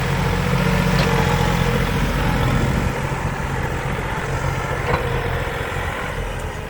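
A three-cylinder Massey Ferguson 4707 tractor engine runs steadily at close range, a dense, continuous low rumble that holds at a fairly constant level throughout, with no talking over it.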